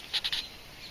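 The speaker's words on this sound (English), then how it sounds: "There's a lot of birds out there." Birds call outdoors at a state park in the evening, with three quick bright chirps close together followed by a fainter call against steady background hiss.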